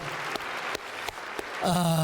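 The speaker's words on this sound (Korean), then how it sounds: "박수 한번 해드리세요" Audience applause in a church service for a choir conductor, a scattered patter of claps that swells steadily, then gives way at the end to a sustained musical tone.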